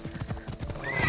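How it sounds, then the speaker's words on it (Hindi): A horse in Assassin's Creed Odyssey arrives with rapid clip-clop hoofbeats and a whinny, close and fairly loud, the hooves pounding in quick rhythm before a rising neigh at the end. "सीटी नहीं मार रहे क्या, अच्छा घोड़ा आ गया मेरा।"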